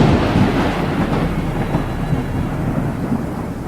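Heavy rain pours down in a continuous roar with a deep, rumbling thunder-like undertone. The sound stays loud and steady throughout, and no voices are heard.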